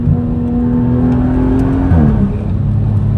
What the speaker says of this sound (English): let's get you guys a quick exhaust sound over here.